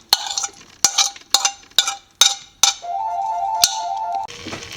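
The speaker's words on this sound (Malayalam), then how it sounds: "അതിൻ്റെ കൂടെ തന്നെ ഈ അരിഞ്ഞു വെച്ചിരിക്കുന്ന സാധനങ്ങളെല്ലാം ചേർക്കുകയാണ്." Chopped vegetables for a stew go into a pot in a series of sharp metallic clanks and clinks, about six close knocks, followed by a steady hum and a soft hiss near the end.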